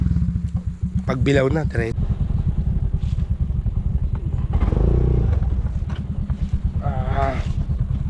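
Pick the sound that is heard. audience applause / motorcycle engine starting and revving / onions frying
motorcycle engine starting and revving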